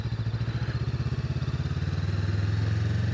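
A 2025 Honda Rebel 500 motorcycle idling in first gear with the clutch pulled in, a steady close low thumping engine pulse that swells slightly as a little throttle is added near the end.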